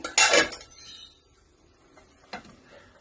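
A lid is set onto a cooking pot of drumstick gravy with a loud metallic clatter near the start, followed by quiet and a second fainter clink toward the end.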